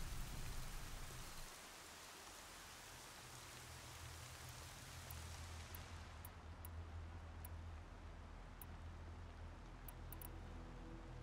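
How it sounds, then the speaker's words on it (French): Steady rain falling in the open world of Horizon Zero Dawn, a soft, even hiss of rainfall with no talk, continuous and fairly quiet throughout. "Est-ce que la pluie pourrait s'arrêter?"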